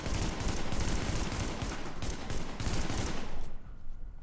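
Assault rifle in The Division fires in steady short bursts, loud and close, a rapid rattling stream with brief gaps before it cuts off as the magazine runs dry.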